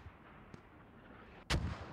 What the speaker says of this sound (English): Infinite mortars from the ship at their main.